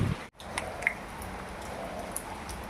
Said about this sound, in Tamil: வெளியில் செம்ம மழை